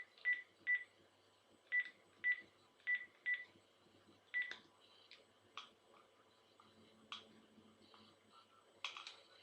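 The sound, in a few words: telephone dialing tones while placing a call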